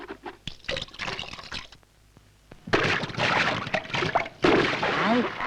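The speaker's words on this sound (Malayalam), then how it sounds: "ഇങ്ങനെ വെള്ളം കലക്കിയാലോ കുട്ടികളെ" Water splashed and churned by hand while bathing in a muddy pond, with bursts of sloshing and splashing, quiet at first then louder and continuous, with voices and movement mixed in.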